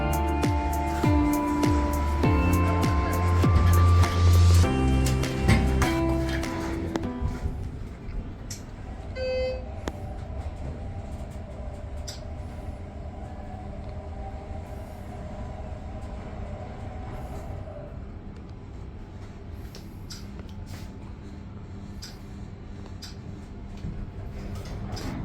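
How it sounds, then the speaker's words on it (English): Schindler 330A lift riding up or down inside a shopping center. A loud rumbling mechanical drone fills the opening seconds, then settles to a quieter, steady hum with a faint chime partway through. "Let's take a ride in this lift."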